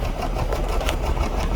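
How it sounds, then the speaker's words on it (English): A car engine with a possible misfire on two cylinders and a blinking check engine light runs close by, a steady, rough mechanical drone with faint knocking pulses and no clear rev swell. "Now let me go ahead and rev this car"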